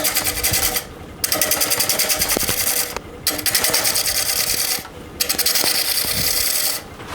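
A wood lathe turns a crotch wood platter while a tool takes light cuts, giving a rapid rhythmic chatter in three long passes broken by short pauses, close and loud, with no talk.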